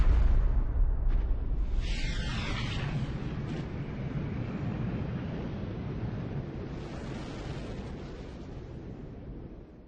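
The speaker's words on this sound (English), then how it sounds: "Massive stars end explosively." A deep, rumbling supernova explosion effect opens with a heavy boom, then rolls on as a long, slowly decaying roar of low noise, with no voices.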